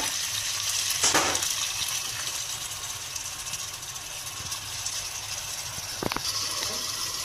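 Soy sauce poured into a hot frying pan, a steady broadband sizzle running throughout with brief louder bursts near the start and again around six seconds, no voices.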